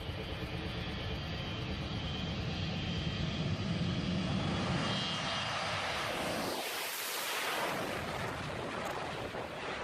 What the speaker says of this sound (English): a 727 was taking off from Puerto Carreño, Colombia, but the aircraft was so heavy it had to use every last bit of runway